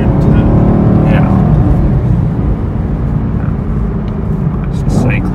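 A Chevrolet Camaro SS at high RPM while cornering at speed, with a loud, steady exhaust drone and engine harmonics that hold throughout and swell slightly near the end.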